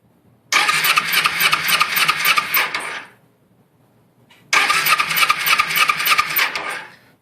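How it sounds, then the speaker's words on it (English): A 2004 Kawasaki Ninja 250 with a no-spark fault is cranked over by its starter in two loud, rhythmic whirring bursts of about two and a half seconds each, separated by a short quiet gap. "we're going to crank her over"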